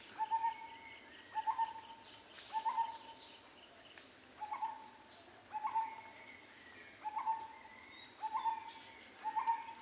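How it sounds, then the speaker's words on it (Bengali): In the morning, a bird repeats a short hooting call about every second and a half, faint and steady, over a constant drone of insects. No one speaks. "কাকের ডাক, কোকিলের ডাক,"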